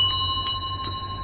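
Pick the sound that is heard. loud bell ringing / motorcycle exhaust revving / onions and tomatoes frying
loud bell ringing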